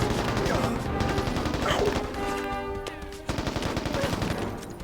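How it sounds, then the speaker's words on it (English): Rumbling, crackling blasts and gunfire-like bursts roll continuously in Mercenaries: Playground of Destruction as an airstrike's bombs detonate, loud and dense with a brief dip before the noise swells again. "That's a pretty expensive airstrike to miss"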